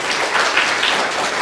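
Audience applause fills a live podcast session with a public speaking trainer: a dense, steady patter of many hands clapping at once, sustained and fairly loud throughout, with no voices over it.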